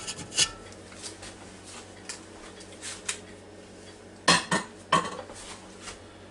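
A slab of St. Louis ribs goes into a Ninja Foodi Deluxe pot with a few sharp metallic clinks and scrapes, two louder knocks near the end, over a quiet kitchen hum.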